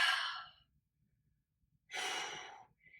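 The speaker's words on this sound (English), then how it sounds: "Take a big breath in here." A deep inhale followed by a pause and then a long exhale, close and clear, taken during a gentle stretching session.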